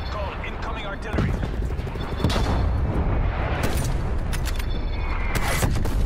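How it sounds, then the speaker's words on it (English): Incoming artillery strike in Call of Duty Black Ops Cold War, loud dense barrage of booms and crackling blasts that swells and stays heavy throughout, with no clear voice on top. "Artillery targeting detected. Net call, incoming artillery."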